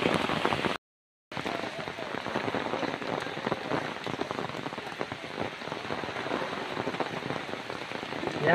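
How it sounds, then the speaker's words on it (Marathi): Heavy monsoon rain pours steadily at Matheran hill station, a dense continuous hiss of drops drumming on surfaces, loud and close, with a brief dropout near the start and faint voices mixed in. "आज माथेरानला खूप पाऊस पडतोय."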